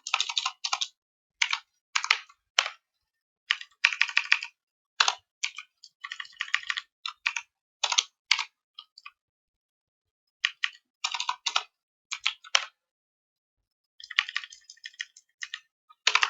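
Computer keyboard typed in bursts of fast crisp clicks while HTML and CSS are coded, short runs separated by brief silent pauses, close and clear with no talking.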